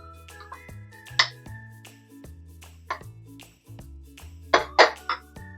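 A spoon stirs gooseberry pachadi in a cooking pot, with scattered metallic clinks and scrapes against the pot's sides coming in irregular bursts over a quiet background.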